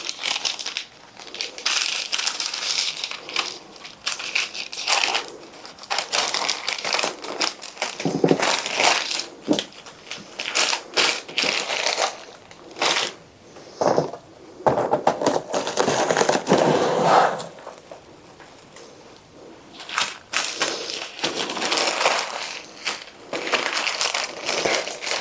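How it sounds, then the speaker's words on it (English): Plastic wrap crinkles and crackles as it is pulled tight around a frozen homemade pizza packed between sheets of parchment paper. Close, bursty rustling comes in repeated waves with short pauses between them. "I close it up completely with plastic wrap."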